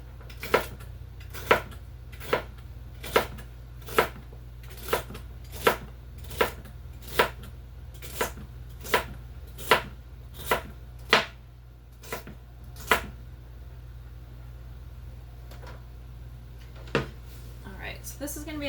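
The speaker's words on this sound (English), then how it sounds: "I think I'm going to pause it so you don't have to just sit here and watch me chop celery" A knife chops celery stalks on a cutting board in steady, evenly spaced thuds, about sixteen sharp close strikes at a regular pace that slows and trails off near the end, with no talking.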